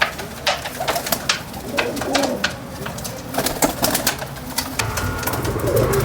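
Pigeons coo repeatedly up close in a loft-like setting, soft throaty calls recurring throughout with occasional wing flutters and background noise.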